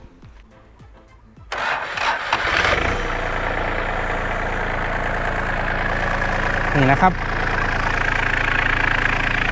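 A used 2009 Yanmar EF352T walk-behind tractor diesel engine cranks and starts after a quiet pause, then settles into a loud, steady chugging idle close by, with a brief bump in revs later; someone speaks briefly.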